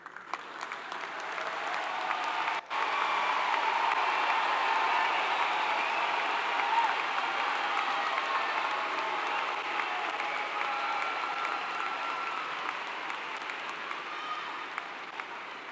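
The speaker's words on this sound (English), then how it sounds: "How about another round of applause for our newest graduates?" Sustained applause from a large audience at a Clemson University fall graduation ceremony for the newest graduates, a broad, even roar of clapping that swells quickly and holds at a steady level throughout.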